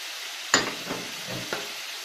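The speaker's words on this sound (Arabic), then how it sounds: "هنقلب كل المكونات دي مع بعض كويس" Chicken liver with dill, parsley, onion, chili pepper, garlic, spices and salt being stirred in a pan, a few scraping stirs over a soft steady sizzle, close and alone.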